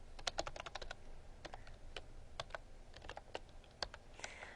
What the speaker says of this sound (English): Doesn't help that my typing is horrendous today.